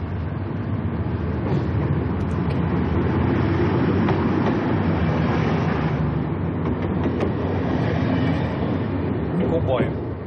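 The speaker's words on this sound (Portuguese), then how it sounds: "Um comboio." A passing train in a played-back recording gives a loud, steady broadband rumble and rattle that holds for about ten seconds without a break.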